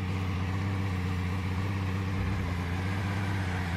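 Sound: two cars driving past in video game DayZ

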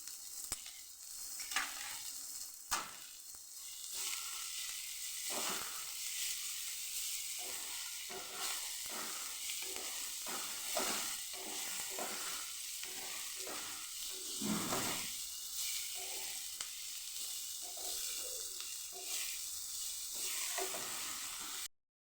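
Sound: capsicum sautéing with ginger-chili paste in oil

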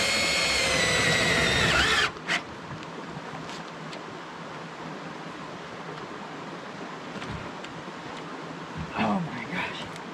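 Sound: power drill driving a fastener with the chuck, no socket

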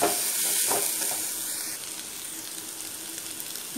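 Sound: stirring boiled salted peanuts and potato frying in a pan

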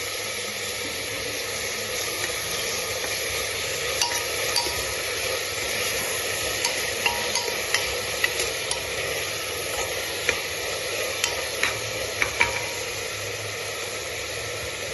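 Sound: garlic ginger paste frying in a pan

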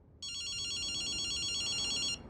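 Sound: telephone ringing in video game Ghostwire Tokyo

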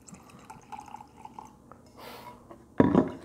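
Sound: pouring Crown Royal Peach whisky into a glass

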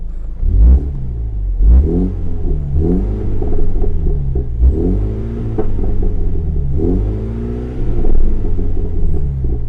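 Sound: car exhaust revving in sport mode

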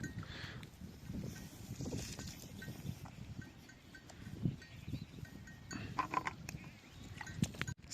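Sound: goats on a farm

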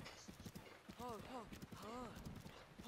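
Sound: horse hooves in a video game, Breath of the Wild

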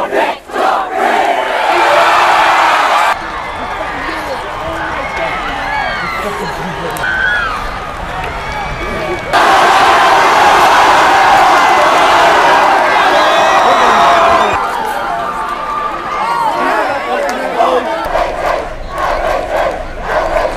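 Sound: crowd cheering at a high school sports game

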